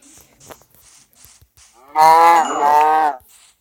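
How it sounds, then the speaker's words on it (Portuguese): A cow in a video game gives one loud, long moo that rises and falls over about a second and a half, following a few faint clicks and taps. "Nossa, tem uma vaca ali, sorte."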